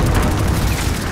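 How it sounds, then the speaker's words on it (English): A precision airstrike in a video game detonates as a loud, booming explosion with a heavy low-end rumble that fills the whole brief moment. "Allied precision airstrike."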